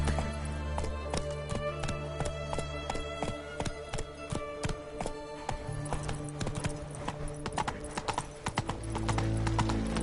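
Roach the horse's hooves clip-clop steadily in The Witcher video game, a brisk, crisp, regular beat over low ambient game music, growing busier toward the end.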